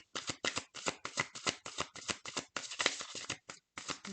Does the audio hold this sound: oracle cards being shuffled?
yes